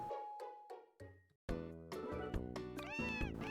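Cat meowing in the video game Harvest Moon: Sunshine Islands, a few soft meows early, then a louder, drawn-out series of meows and caterwauls, close and clear.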